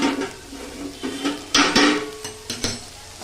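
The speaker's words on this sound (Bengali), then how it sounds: "ব্যাস আবারও একবার নেড়ে দিলাম" A spoon stirs a mixed vegetable curry (navaratna sabji) in a pan, with scraping clatters and knocks against the metal and a soft sizzle between strokes, close and alone.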